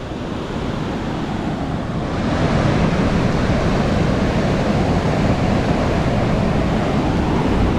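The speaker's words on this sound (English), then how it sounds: "So there's a couple of waves around too." Ocean surf rolls steadily onto a quiet beach at Port Stephens, New South Wales, a continuous broadband wash of breaking waves with some wind noise, swelling slightly louder after the first couple of seconds and carrying on without talk.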